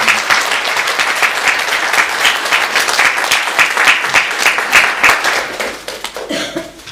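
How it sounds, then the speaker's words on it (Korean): A church congregation at a Korean Sunday worship service claps together to celebrate members' birthdays: loud, dense, continuous applause from a nearby crowd with a few scattered laughs, tapering off at the end. "우리 다 같이 박수로 축하드립니다"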